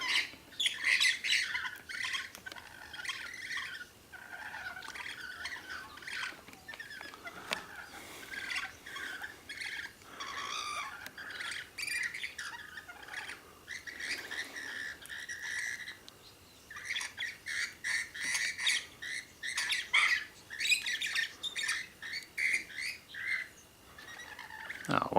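Birds being fed at Loch Sport, a flock squawking and screeching in bursts close by, with harsh overlapping calls rising and falling over a quiet outdoor background, and a little faint speech.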